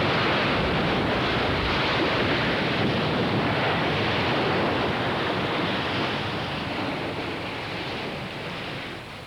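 Ocean waves batter rocks along a rugged shore, a loud continuous roar of broken surf blended with wind noise that eases slightly near the end, with no voices.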